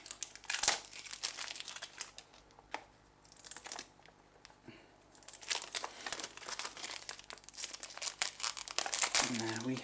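Plastic shrink wrap is torn and crinkled off a pack of fresh video tapes. The crackling rips and rustles are close and come in uneven bursts, with some faint background noise.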